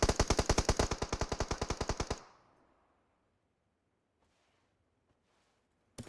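Rapid automatic gunfire in an esports video game match, a loud burst of about twenty evenly spaced shots lasting two seconds, then near silence with faint distant rattles.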